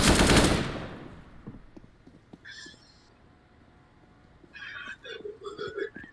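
A short, loud burst of gunfire in a first-person shooter opens sharply, then falls away. Quieter shots and scattered higher tones follow at a lower level.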